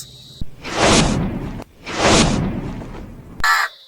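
A crow at a house near Gargaon in Palghar gives two long, harsh caws, close and loud, each stretching about a second with a short gap between, followed by a brief sharper call at the end.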